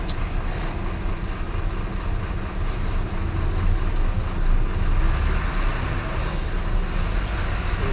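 Dense road traffic roaring past on a busy highway near a service road, a loud continuous wash of engine and tyre noise with heavy vehicles rumbling close by and no talk.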